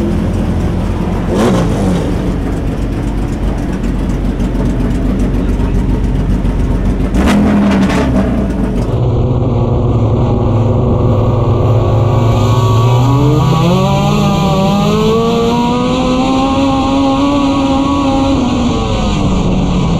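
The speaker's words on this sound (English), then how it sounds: "Reed's about to roll out for his heat race" A race car roars at a speedway heat race, its engine droning steadily and close, then climbing and falling in pitch as it revs and rolls away, with a second engine layered underneath.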